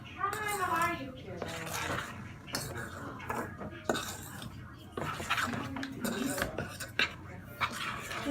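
Cookie dough with chocolate chips is stirred in a bowl, utensils clinking and scraping against the dish in irregular bursts, close and fairly quiet, while a child and an adult talk over it.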